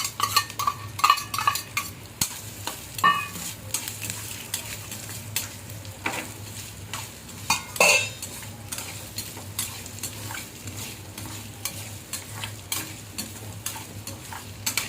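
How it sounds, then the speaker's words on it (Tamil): Garlic and ginger frying gently over low heat in a pan for mutton curry, a steady close sizzle broken by frequent scraping stirs and occasional clinks of a metal spoon. "நூறு வெள்ளைப்பூடு, 50 இஞ்சி வறுக்கணும்."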